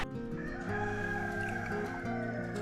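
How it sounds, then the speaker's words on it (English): Roosters crow at night near a Chinese wet market camping spot, a steady layered chorus of drawn-out calls heard at moderate distance throughout, no talking. "It's like 12 o'clock in the morning, and you can just hear the roosters."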